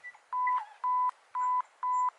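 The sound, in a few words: camera self-timer beeping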